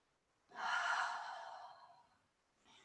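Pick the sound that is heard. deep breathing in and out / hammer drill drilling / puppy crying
deep breathing in and out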